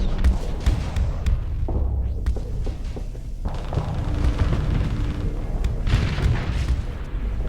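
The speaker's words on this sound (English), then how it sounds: "The missiles just keep on firing." Missiles launching and detonating in a Starsector space battle, a dense, continuous rumble of booms and thuds with sharp bursts scattered throughout.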